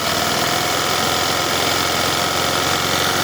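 A Kymco People S 200i scooter engine idles close by, a dense, steady mechanical clatter with a fast even knocking pulse and broad hiss, unbroken throughout with no voices.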